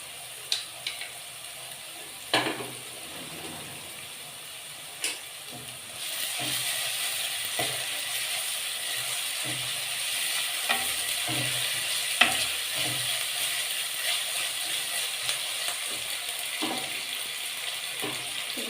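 Onions with ginger-garlic paste and chopped chilli fry in a pan for a mutton and kohlrabi curry, light taps and scrapes at first, then a steady close sizzle with occasional stirring knocks.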